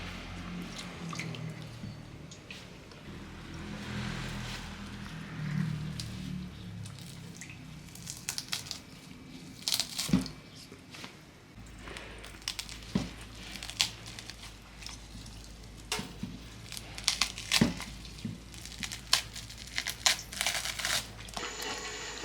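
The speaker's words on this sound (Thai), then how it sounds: "ฉีกเนื้อนะครับ คุณดูนะ ฉีกออกมาแบบนี้เนาะให้เป็นชิ้นเล็กๆ" Cooled cooked beef being pulled apart by hand into small shreds for shredded beef, heard as soft, close, intermittent crinkly squishes and tearing clicks that sharpen and grow more frequent toward the end, with no talking.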